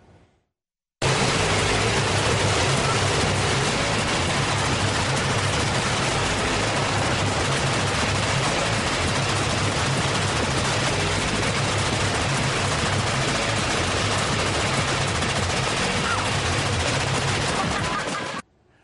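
Fully automatic gunfire at the Oklahoma Full Auto Shoot and Trade Show, a loud, unbroken roar of overlapping rapid shots sustained for about seventeen seconds before cutting off.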